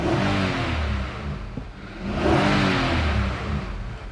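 An Infiniti QX80 engine revs up twice in succession, each rise swelling into a loud, steady roar before easing back, with a brief dip in between; no one talks.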